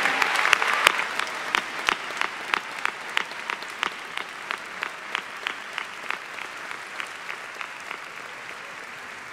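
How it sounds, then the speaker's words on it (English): Audience applause at a college commencement, a crowd clapping with a prominent close, rhythmic clap repeating about twice per second over the broader wash of hands, continuing steadily to the end. "Can we give a round of applause for what our students will be doing?"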